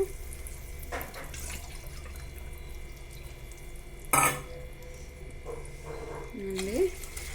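Water poured into a pan for wheat rava semiya upma: a brief splash midway over a quiet kitchen background, with a faint voice nearby.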